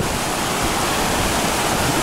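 A shallow stream flows across a hiking trail with a steady, close, even rush of water and no voices.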